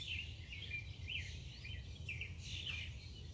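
A blue jay gives several short, faint calls near a backyard feeder on a rainy morning, spaced irregularly over a steady background hiss.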